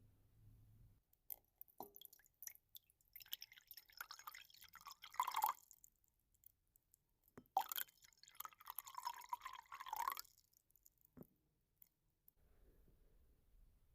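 Qingxin tea is poured into a cup in a quiet setting, with soft dripping and trickling in two longer streams between light clinks and clicks, close and gentle, with no talk.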